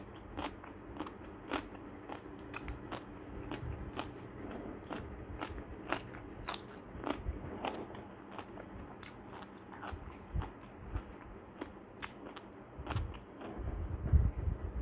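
Crunchy biting and chewing of fruit, close and quiet, with a steady run of sharp crisp crunches and softer chewing throughout.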